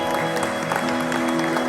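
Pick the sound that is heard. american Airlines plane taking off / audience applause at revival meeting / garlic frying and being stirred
audience applause at revival meeting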